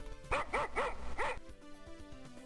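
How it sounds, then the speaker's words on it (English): A video game dog barks from inside a doghouse, four quick, evenly spaced barks, followed by softer, scattered yelps and thumps. "There's a dog in the doghouse barking at you."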